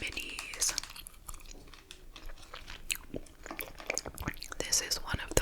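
Close, wet gum chewing with soft crunchy clicks in an ASMR setting, faint whispering weaving between the steady mouth sounds.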